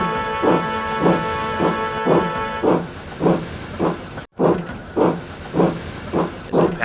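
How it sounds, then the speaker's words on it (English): A cartoon steam locomotive puffs out a steady rhythm of about ten loud, breathy steam hisses at even intervals, with a brief dropout in the middle and no talk. "Together they hissed steam at Diesel as he passed."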